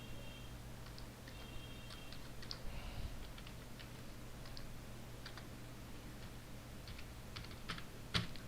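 Typing on a computer keyboard while writing HTML code, a quiet series of soft, irregular key clicks over a faint, steady hum.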